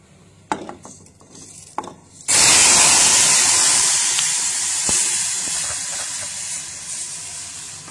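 Milk poured into a pan of hot roasted semolina, launching a loud, steady hiss that starts abruptly after a few small clanks and slowly fades while staying strong.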